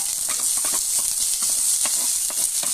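Chopped garlic sizzling and crackling in hot oil in a pan while cooking fish sarciado, a dense, continuous bright hiss dotted with quick pops, close and steady, with no talk.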